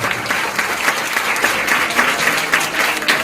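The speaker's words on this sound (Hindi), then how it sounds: "जोरदार तालियों के साथ स्वागत करें" Loud, steady applause from a school audience welcoming the start of a maths mind game programme, a dense, close clapping that carries on without a break from start to finish.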